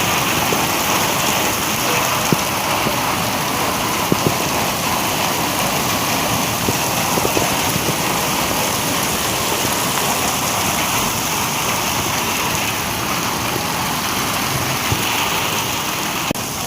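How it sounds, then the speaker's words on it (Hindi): Dense, steady roar of heavy hail pelting the ground, fine ice pellets drumming continuously and loudly throughout with no talk. "इतने ज़्यादा ओले हमने अपनी पूरी लाइफ में नहीं देखे जितने आज हुए हैं।"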